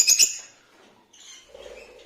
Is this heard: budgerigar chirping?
yes